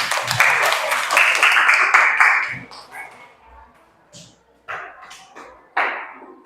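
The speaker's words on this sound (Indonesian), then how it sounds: "Tepuk tangan untuk kita semua." Schoolchildren and teachers applauding in a classroom, a loud, dense burst of clapping for about two and a half seconds that then dies away into scattered voices and a few isolated thumps.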